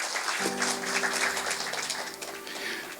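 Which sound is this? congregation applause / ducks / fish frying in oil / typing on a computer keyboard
congregation applause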